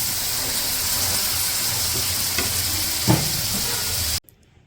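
Chickpeas and potatoes frying in a pan with chili powder, salt, ginger-garlic paste and coriander powder, a steady close sizzle with a couple of stirring scrapes, cutting off abruptly near the end.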